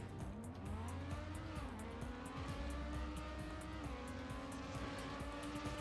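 Race car engine in TrackMania United Forever, a continuous high revving whine that rises and shifts pitch through gear changes, loud and steady throughout with a faint ticking pulse above it.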